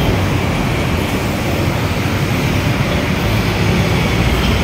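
An LRT light rail train rumbles past along Ramon Magsaysay Boulevard, a loud, steady, broadband roar with heavy low-end rumble that holds constant throughout, with no voices heard.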